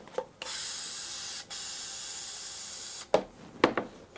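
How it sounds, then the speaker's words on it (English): Two long bursts of aerosol tin spray hiss steadily into a cup, followed by a few light clinks and taps. "Spray some tin into a cup."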